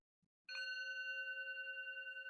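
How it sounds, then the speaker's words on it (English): One meditation bell is struck once and rings on with a steady, clear sustained tone that slowly pulses, alone in quiet. "Now, I'm going to ring my bell again."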